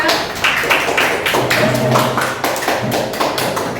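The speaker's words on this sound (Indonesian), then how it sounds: "beri tepuk tangan untuk kelompok 3" A classroom of students claps for a group of classmates, steady rhythmic clapping close by that continues throughout, with a faint voice underneath.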